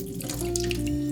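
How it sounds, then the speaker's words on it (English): Cold tap water runs over cooked noodles in a sieve, a steady splashing stream with gurgling and dripping, close and continuous. "I like to drain them in a sieve and rinse them with cold water"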